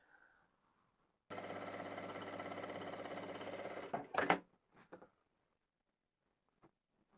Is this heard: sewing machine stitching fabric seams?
yes